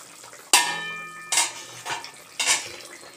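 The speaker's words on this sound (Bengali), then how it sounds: "ঢাকাটা এবার আমি খুলব।" A metal lid comes off a kadai of fish curry in mustard-oil gravy with three ringing metallic clanks, spaced about a second apart, close and fairly loud.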